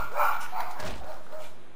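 A pet dog barks a few times nearby, the barks short and mid-pitched with small gaps between them, and nothing else is heard.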